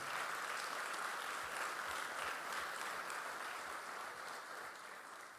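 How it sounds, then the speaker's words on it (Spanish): A church congregation claps for the Lord after a sermon line, giving broad, even applause at a moderate distance, with faint rhythmic thumps underneath, slowly tapering toward the end. "Dale el aplauso fuerte al Señor."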